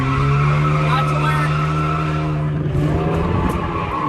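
Car engine of an automatic car revving steadily with a sustained droning tone, feathered below red line while drifting, tires skidding and squealing throughout, loud and close.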